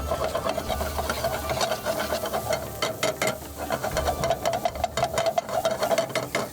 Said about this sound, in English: Increase the heat to full and start mixing this.